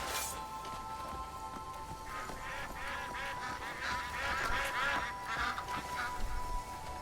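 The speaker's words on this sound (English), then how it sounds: "Oh, a duck." A duck quacks in the Crimson Desert video game beside a waterfall. A series of moderately loud quacks in short bursts rises over the constant rushing hiss of falling water.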